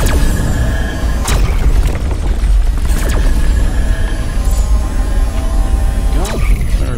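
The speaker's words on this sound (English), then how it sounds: "Mining turret." A mining turret fires in the space game Rebel Galaxy, producing dense mechanical booming and throbbing bursts with sharp zaps over a loud, constant engine rumble, while a voice talks over it.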